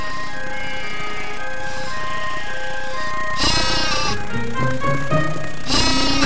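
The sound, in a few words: flock of sheep bleating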